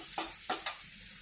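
Chopped garlic fries in oil in a pan while being mixed with a turner, with a steady sizzle broken by three sharp scraping, crackling bursts, close up and without talk.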